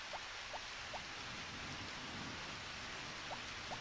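Steady, soft hiss of rain falling in the farming video game Harvest Moon: Back to Nature, with faint repeating drip-like ticks over the continuous wash and no voices.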